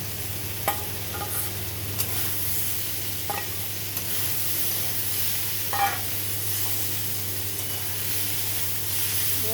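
Prawns fry in a pan with a steady, close sizzle and hiss. A few faint clicks and stirring taps rise above the constant frying.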